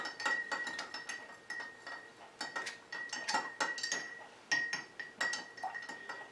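A spoon stirs vitamin E into rosemary-infused oil in a container. It makes repeated light clinks and scrapes against glass, close and fairly quiet, with no talking.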